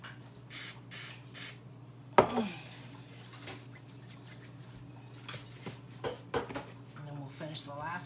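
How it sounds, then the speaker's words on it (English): A few short spritzes from a spray bottle onto hands in quick succession while making mini potato pies, close by, followed by a clatter and light handling noises with quiet talk. "let me spray my hands"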